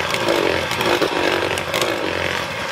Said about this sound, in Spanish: Y luego vamos a volver a batir hasta que nos quede perfectamente integrado.